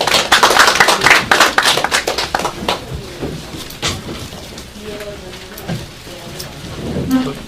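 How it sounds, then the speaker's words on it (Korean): Applause at a small roundtable meeting on judicial reform greets the co-representative who is about to present a proposal. It begins as dense, close clapping, thins out over a few seconds, and gives way to faint room noise with a little talk. "연성수 공동대표님을 박수로 맞이하겠습니다."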